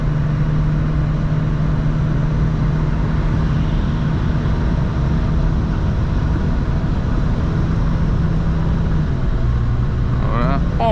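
A 1993 Opel Corsa 1.4i automatic drops a gear under kickdown on a highway climb, its small four-cylinder engine droning loudly and steadily inside the cabin beneath wind and road noise, with a voice speaking briefly near the end.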